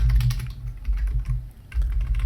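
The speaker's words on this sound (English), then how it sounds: "And then you can start typing." Fingers type on a computer keyboard in quick uneven bursts of clicking keys, close and clear with brief pauses between runs, no voices.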